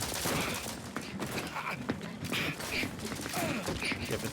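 Rapid bursts of gunfire from combat in the video game The Outer Worlds 2, dense overlapping shots with mechanical clatter mixed under game voices and effects throughout.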